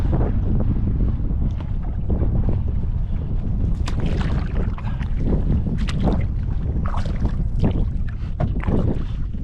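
Strong wind roars and buffets the microphone continuously on a river in Little Yampa Canyon during a canoe trip, loud and close with rushing gusts and faint splashy texture underneath, no speech.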